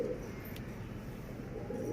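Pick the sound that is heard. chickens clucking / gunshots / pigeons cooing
pigeons cooing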